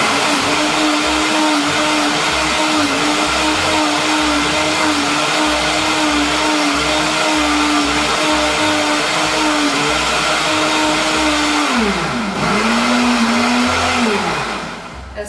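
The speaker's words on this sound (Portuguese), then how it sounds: "Tudo no liquidificador." A kitchen blender whirs steadily, blending eggs with liquid ingredients for a sweet bread dough, its loud motor drone holding one pitch before dipping and rising again near the end as the load shifts, with no voices.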